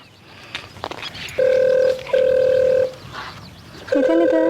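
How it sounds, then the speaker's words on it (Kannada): A telephone rings indoors in a Kannada comedy skit, with two long steady rings, a pause, then a third ring starting, and brief voices and small noises before them. "ಫೋನ್ ಬರತೈತ್ರಿ ಇಲ್ಲಿ ಫೋನ್ ಬರತ್ತದ"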